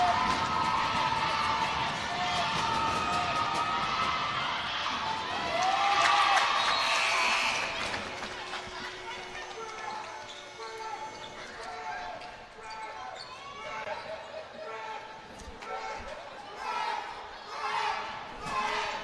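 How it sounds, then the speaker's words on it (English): A loud gym crowd at a South Bronx Prep vs Seward Park high school boys' basketball city championship, with steady cheering and shouting, whistles and squeaking sneakers under a commentator's voice throughout. "this crowd is a little more intense than the last crowd"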